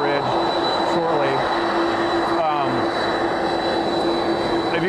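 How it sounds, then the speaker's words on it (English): Air Force One taxis at Eppley Airfield with a steady, loud jet engine whine and a constant high tone, while voices talk underneath throughout. "Air Force One is here taxiing"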